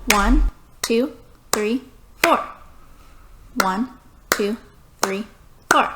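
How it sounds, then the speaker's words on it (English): Hands clap eight crisp, evenly spaced quarter-note beats in two groups of four, loud and close, each clap landing with a voice counting the beats aloud. "If we were to clap it and count it, it would sound like this."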